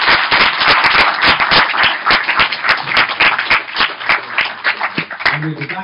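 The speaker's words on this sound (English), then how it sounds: "Please, can you give a warm round of applause to Peter Steele." Conference audience gives a warm round of applause for a speaker at the end of a day on Viking DNA in Ireland, with loud, dense clapping and distinct sharp claps up close, and a brief voice near the end.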